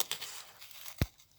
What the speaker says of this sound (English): just inside your polystyrene shape, and what you want to do is just cut that off